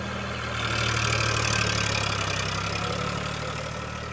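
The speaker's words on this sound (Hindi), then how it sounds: "साउंड बहुत अच्छी है ट्रैक्टर की" An Eicher 551 tractor engine idles steadily nearby, a continuous low rumbling chug that swells slightly and then holds.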